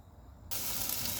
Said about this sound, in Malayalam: ഞാൻ വെണ്ടയ്ക്ക നത്തി ഇറക്കാൻ വേണ്ടി വഴറ്റിക്കൊണ്ടിരിക്കുന്നു.